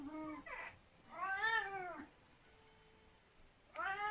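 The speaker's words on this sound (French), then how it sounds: "c'est à ce moment précis que ce chat se met à crier" Cat crying out with several drawn-out meows, fairly faint and separated by quiet pauses, with a faint steady hum between calls.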